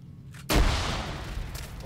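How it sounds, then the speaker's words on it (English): A grenade bursts in Iron Front ARMA 3, a sudden loud boom after a brief quiet moment, followed by a long rumbling decay and distant crackle. "I grenaded him."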